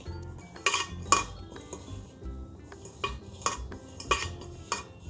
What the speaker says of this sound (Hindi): तो हम यहाँ पे घी डाल रहे हैं। घी हमें अच्छे से डालना है ताकि मोइन अच्छे से हो। अब इन्हें हम मिक्स कर लेंगे।